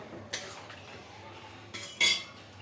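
A spoon stirs dal in a metal pot, producing a couple of brief clinks against the rim over a quiet background.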